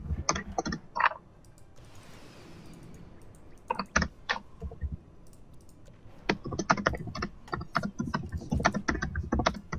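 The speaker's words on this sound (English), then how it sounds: "God damn it, that keyboard, man." Rapid, uneven clicking of a computer keyboard picked up by a player's microphone during a Planetary Annihilation: Titans match, loud close clusters of keystrokes in bursts with short pauses.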